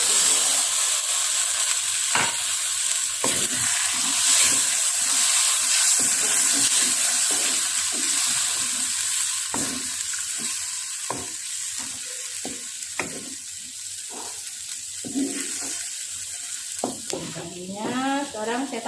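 Curry leaves and milk for nasi mandhi hitting a hot pan, a loud spitting sizzle that settles into bubbling with stirring and clinks, close and steady, with soft speech in places.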